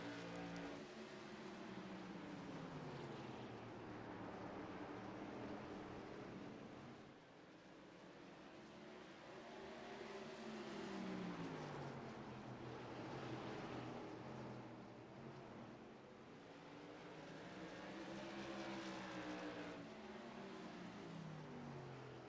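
Modified race cars racing at Stafford Speedway give a continuous engine roar whose pitch swells and falls in long waves as the pack circles the track, fairly distant and steady.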